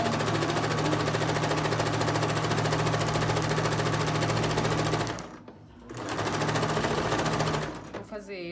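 Sewing machine sewing the hood of a child's jacket, a loud steady close-up hum of rapid stitching that stops briefly partway through, then resumes before a short rustle at the end.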